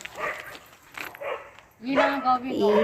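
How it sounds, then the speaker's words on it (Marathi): Several dogs bark in loud, rapid bursts near a family home in a Marathi village, the yaps rising after a stretch of voices and continuing over ongoing talk. "कुत्र्यांचा कालवा"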